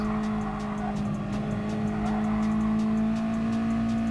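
A race car on a sprint track in a racing video game brakes and then gets back on the throttle, its engine holding a steady, buzzing drone with a faint tire scrub underneath.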